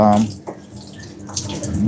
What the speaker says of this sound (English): now I'm gonna rinse all these flaps for any dirt that's left in there